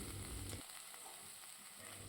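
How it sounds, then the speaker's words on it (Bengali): Spices cooked in about a cup of water in a pan bubble and sizzle steadily at low volume, a continuous soft hiss with no voices present. "এরপর এক কাপ মতো জল দিয়ে মশলাগুলোকে সেদ্ধ করে নিচ্ছি"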